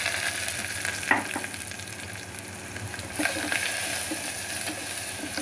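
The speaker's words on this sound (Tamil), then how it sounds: "வெங்காயம் நல்லா வதங்கணும்" Onions and green chillies fry in a pan with a continuous close sizzle and occasional stirring scrapes, steady throughout with no talking.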